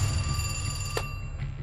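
A telephone rings in a quiet room, a steady electronic ring with a brief break partway through. No one speaks.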